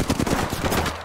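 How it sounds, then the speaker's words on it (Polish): Rapid automatic gunfire from the video game Apex Legends crackles in a dense, loud burst of closely spaced shots lasting about a second, with no voices over it. "Jestem pod strzałem."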